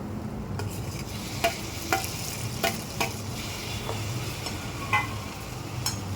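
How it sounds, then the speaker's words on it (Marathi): Spoon stirring mashed eggplant with garam masala in a hot pan, a soft sizzle under repeated scraping and clinking strokes against the pan, close and steady, with no talk. "आता ॲड करूया गरम मसाला. आता यात ॲड करूया मॅश केलेली वांगी"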